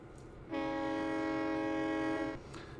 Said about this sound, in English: Man, I love classic locos.